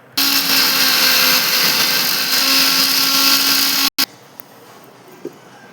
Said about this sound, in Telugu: దీన్ని అయితే మిక్సీ పట్టేసుకున్నాం.